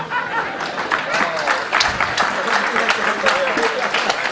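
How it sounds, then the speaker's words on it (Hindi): An audience at a Hindi comedy poetry show claps steadily, a dense burst of applause that carries throughout with some scattered chatter mixed in. "जो लोग नहीं आए उनके हिस्से की ताली भी आप लोग ही बजाएंगे"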